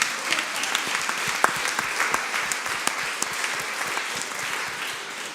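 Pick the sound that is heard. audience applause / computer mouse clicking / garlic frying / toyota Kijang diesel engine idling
audience applause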